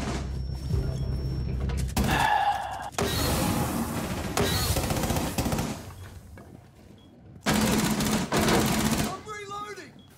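Rapid gunfire sprays in Rainbow Six Siege, loud dense bursts of automatic shots in several long stretches separated by short pauses, with game sounds and voices mixed around them.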